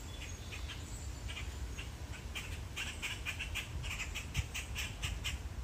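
Birds squawk in repeated harsh bursts, several calls clustered together at moderate distance over a quiet outdoor background.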